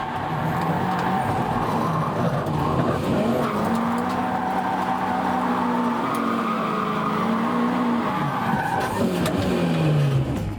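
A car on a racing track at a Ten of the Best event brakes hard and is thrown through corners, with a loud, continuous close engine note rising and falling and tyre squeal throughout.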